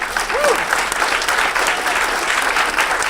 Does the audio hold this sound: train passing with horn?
no